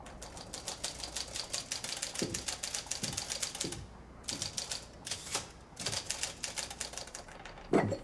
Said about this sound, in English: Yes, Mr. Randall's typewriter, no doubt